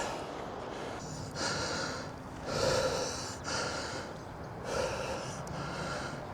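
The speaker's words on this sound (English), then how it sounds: "you probably hear the heavy breathing already" Heavy, labored breathing while climbing uphill in Tasmania, in repeated loud huffs and gasps, close to the mic, with no talking.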